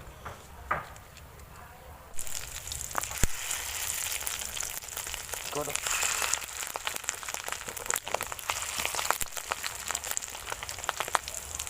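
Fish roe fritters frying in hot white oil in a wok, a steady crackling sizzle that starts abruptly and keeps going with scattered pops, preceded by a brief moment of quieter background.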